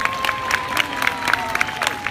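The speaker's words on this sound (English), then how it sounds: "Big round of applause for Gabriella." An audience at a zoo bird show claps in quick, uneven bursts, with some cheering mixed in, loud and close.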